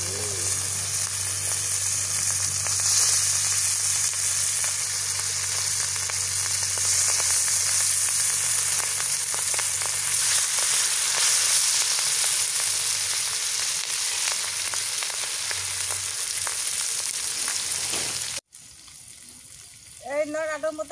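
A large glass carp fish fries in very hot oil in a pan, giving a loud, steady crackling sizzle close by that runs for most of the stretch before cutting off abruptly, after which a voice is heard briefly.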